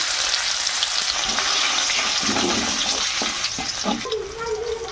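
Fish heads sizzle in hot oil with a bay leaf and garlic added, a steady close frying hiss with a few stirring clinks toward the end, no talking.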